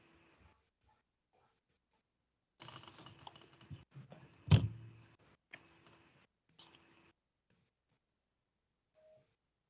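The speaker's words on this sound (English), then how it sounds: "I can see Mr. Mabizela is typing." A computer keyboard clicks in short, irregular bursts of typing during an online meeting, faint and close, with one sharper knock midway and quiet gaps between.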